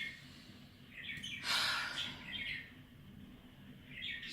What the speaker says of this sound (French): l'oiseau est en train de chanter